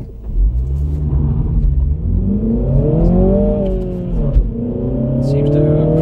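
A 2021 MINI Cooper S F56 in sport mode launches and accelerates, its engine rumbling loudly and rising in pitch, dipping at a gear change before climbing again, heard from inside the cabin with some talk over it.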